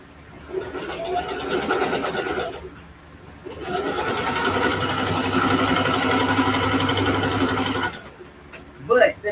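A home sewing machine stitches a quilted ruffle backpack, running in two long steady whirring bursts with a brief stop between, close and fairly loud, then a few clicks as it halts.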